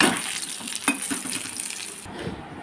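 Ash gourd slices fry steadily in shallow oil, a dense continuous sizzle with a few brief clinks from the pan, softening slightly near the end.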